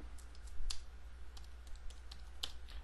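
Command typed on a computer keyboard in a Windows Server 2008 command line session: a short burst of crisp, irregular key clicks close by, alone over a low steady hum.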